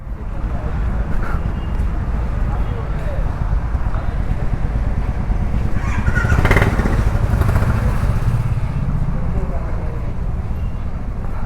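A Royal Enfield Himalayan 450 motorcycle runs steadily nearby at a showroom delivery, its engine a continuous low rumble with some wind noise and people talking over it.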